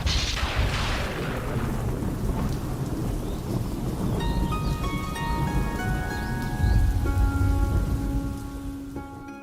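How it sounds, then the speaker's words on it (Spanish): Steady rain falls in a dense, continuous wash, with loud thunder rumbling at the start and again near the end, while faint tonal sounds drift in underneath during the latter half. "Llueve."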